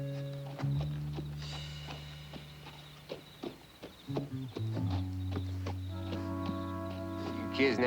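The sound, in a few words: horses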